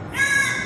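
A single crow caws loudly and close, one drawn-out harsh call during a religious celebration in Ayodhya.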